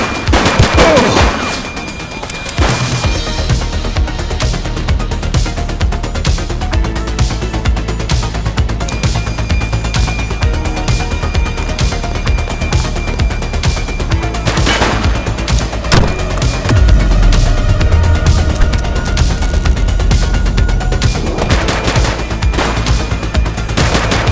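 Sustained gunfire shootout in The Precinct, a cop sandbox video game, with dense, loud bursts of shots and booms running almost continuously, thickening into heavier rumbling volleys near the end.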